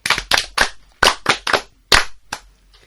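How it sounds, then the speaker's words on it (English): A handful of students in a classroom clap in a short scattered burst, about nine sharp, close claps at uneven intervals that fade out near the end. "Très bien, applaudissez."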